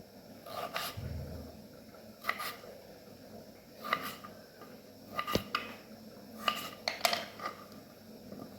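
Knife cutting peeled potatoes on a board in a home kitchen, sparse sharp taps and clinks spaced a few seconds apart, fairly quiet.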